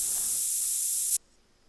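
Scent-eliminating spray in The Hunter Call of the Wild: one steady, loud hissing burst lasting about a second, then cutting off abruptly to near silence.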